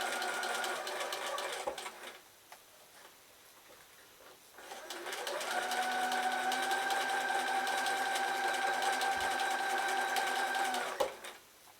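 A sewing machine stitches patchwork fabric strips in two runs, a short burst then a longer steady whirring stretch with a faint pause between, close and fairly quiet.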